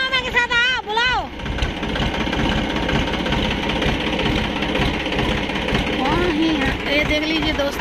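A tractor engine idles nearby in a forest beside a ruined temple where the tractor is stuck, a steady low mechanical drone with voices talking over it at the start and again near the end.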